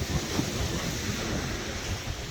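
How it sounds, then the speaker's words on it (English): Wind gusts steadily around an outdoor gas fire pit at Larkspur on a windy day, a constant broadband rushing roar buffeting the microphone with no pauses. "sometimes the wind is blowing toward me. Other times the wind is blowing away from me"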